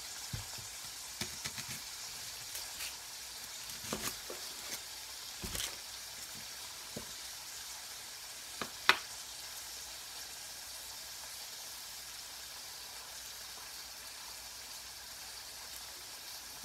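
A pork chop pan-searing in a hot pan gives off a steady, faint sizzle. A few sharp clicks and pops stand out over the hiss, and no one talks.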